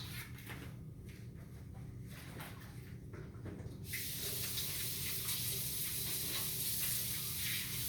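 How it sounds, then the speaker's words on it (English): A kitchen tap runs while hands are washed under it. A soft background hum gives way midway to a loud, steady rush of water spraying and splashing close by. "let me give my hands a quick wash"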